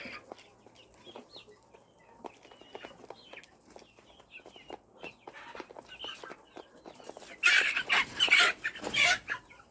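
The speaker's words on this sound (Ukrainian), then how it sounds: "Всі собі спокійні домашні курчата, нікого не чіпають." Domestic chickens cluck and squawk in short repeated bursts, growing louder and more agitated toward the end, with flapping and scuffling close by.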